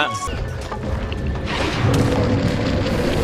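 A spell explosion in a Dota 2 match: a deep booming blast that swells midway and rumbles on with crackling debris, heard over busy game effects.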